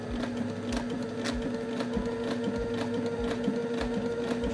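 A sewing machine with a binder attachment and walking foot runs steadily while stitching a bound hem, giving a close, even mechanical whir with a regular stitching pulse.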